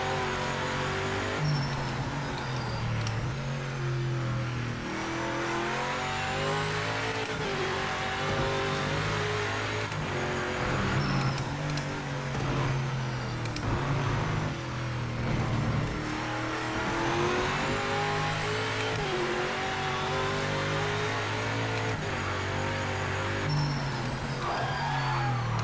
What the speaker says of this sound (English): I don't like the sound of this car. It sounds like a NASCAR.